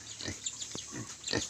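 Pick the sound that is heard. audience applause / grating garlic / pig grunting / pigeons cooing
pig grunting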